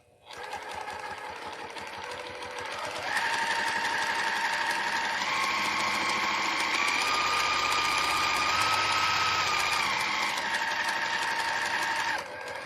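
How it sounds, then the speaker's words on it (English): A Janome-style sewing machine stitches a fabric tissue box cover in one sustained run, its motor whirring steadily and rising in pitch midway before slowing and stopping near the end. "And I'm going to sew through this side first."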